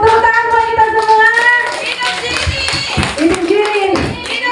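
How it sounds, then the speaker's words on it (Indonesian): Audience in a school community gathering clapping together in a sustained burst of applause, close and lively, with voices mixed in. "tepuk tangan buat kita semua"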